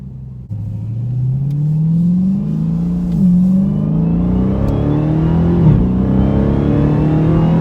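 A supercharged Dodge Hellcat engine accelerating hard, its whining pitch climbing steadily and loudly over several seconds with a brief dip partway.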